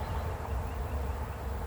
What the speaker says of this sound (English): What sweet bees.